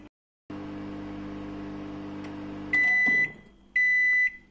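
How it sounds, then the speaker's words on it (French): A microwave oven cooking a banana, oat and chocolate bowl cake gives a steady low hum after a short silence, followed by two loud, sustained electronic beeps near the end. "Ok, je le mets au micro-ondes et on se retrouve dans 2 minutes."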